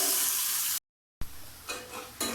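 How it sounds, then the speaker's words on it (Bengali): Onion and ginger sizzle in a pan, a bright steady frying hiss cut by a brief silence, then resuming with soft stirring scrapes. "আমি ভালোভাবে এটাকে ভেজে নেবো লাল করে।"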